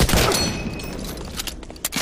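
Rapid bursts of gunfire in the video game Medal of Honor: Allied Assault crackle continuously, loud and busy, with sharp individual shots popping out near the end.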